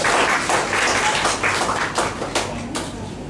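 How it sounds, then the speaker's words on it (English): An audience claps in a hall, a dense burst of applause that tapers off over a few seconds. "I would like everyone to applaud"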